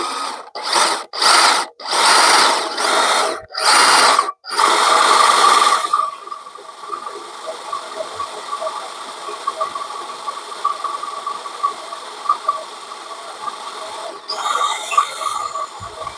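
A drill bores holes through a metal plate for a video doorbell mount, with several loud bursts of whining drilling separated by short pauses in the first half, then quieter mechanical noise and a final short burst.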